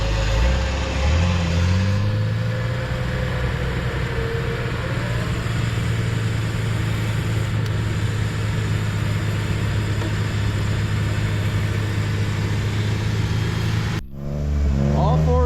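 Jeep Wrangler YJ engine revving hard under heavy load with all four wheels spinning, a loud sustained mid-pitched drone with rising pitch early on, then cutting off abruptly near the end as a person talks.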